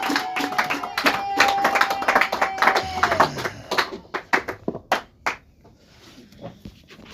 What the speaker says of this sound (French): nous allons applaudir pour la gloire du Seigneur